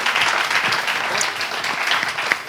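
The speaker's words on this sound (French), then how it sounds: "c'est pour ça qu'on applaudit" An audience claps at a lively French variety show, a dense and fairly loud patter of many hands that runs unbroken for the whole clip.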